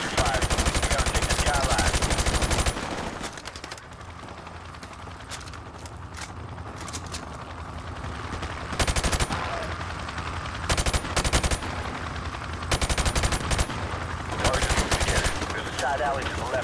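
Heavy automatic gunfire in Call of Duty: Modern Warfare Remastered on Xbox One, loud sustained bursts of rifle fire rattling on and off across the whole stretch, with brief lulls between volleys.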